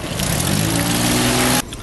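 Ferry motor running steadily, a loud continuous engine drone with tonal hum that holds for about a second and a half, then cuts off abruptly near the end.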